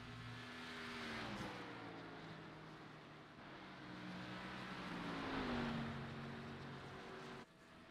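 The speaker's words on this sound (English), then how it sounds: "They are all doing burnouts on the front stretch." Race cars doing burnouts on the front stretch at an Iowa charity race, a distant roar of engines rising and falling with pitch sweeps as they rev, under a broad crowd-and-track wash.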